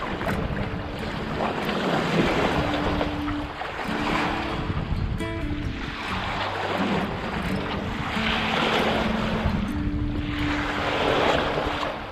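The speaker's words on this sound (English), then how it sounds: "Finally, we have some wind." Steady wind roars over open water aboard a sailboat off the Central Coast beyond Cape Caution, with waves and swell washing against the hull; the gusty hiss and rumble hold for about twelve seconds, loud and close to the microphone, and no one speaks.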